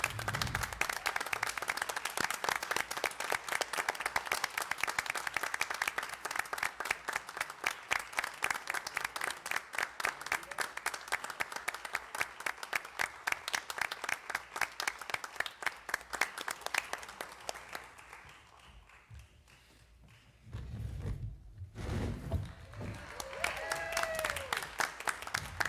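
A school board meeting audience applauds students at an awards session, with a long, fairly quiet but steady run of rhythmic clapping that fades out after about eighteen seconds and is followed by a brief murmur of voices.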